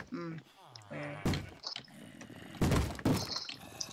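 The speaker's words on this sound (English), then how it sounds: "I hear zombies banging on the door." Several heavy thuds from Minecraft zombies banging on a door, landing irregularly under game sounds and a person talking.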